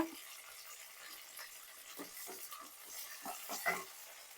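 A spoon stirs Andhra-style chicken curry with fresh coriander in a pan, giving a steady run of scraping, sizzling swishes that rise and fall, close and moderately loud, with no talking.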